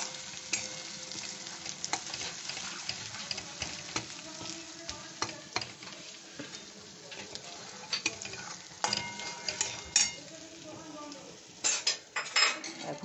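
Spice masala for a banana blossom (mocha) chop is stir-fried in a pan, with a soft continuous sizzle under frequent scraping and clinking of a spatula against metal, the strokes coming in irregular bursts, louder near the end.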